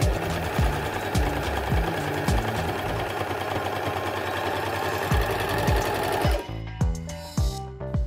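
A Janome AirThread 2000D overlock machine running a test seam with differential feed set at 1.5. Its fast, steady mechanical whir rattles close up, then slows into separate thumping stitches near the end.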